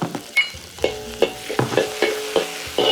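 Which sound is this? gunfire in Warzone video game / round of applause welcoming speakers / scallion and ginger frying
scallion and ginger frying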